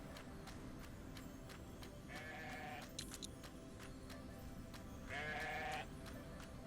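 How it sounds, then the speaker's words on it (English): Two short bursts of sheep bleating in the video game Grow Home, each under a second, rise above a steady bed of background music and ambient game noise. "Down here we've got some sheep."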